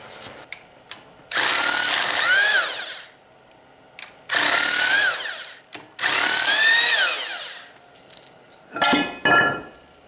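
Power tool with a 3/8 drive 17 mm socket zipping bolts off the flywheel of a Chevy S10 engine, three long whirring bursts with pitch sweeps and short clicks between them, close and loud, followed by a final pair of quick bursts.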